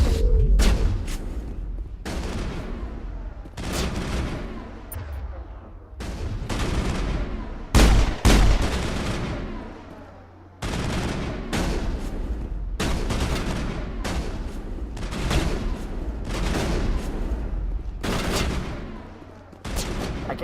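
Rapid bursts of gunfire from the video game Mass Effect repeat throughout, sharp close volleys in quick succession with brief pauses between them.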